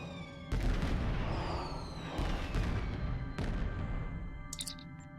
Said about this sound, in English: Just random fireworks mid-battle.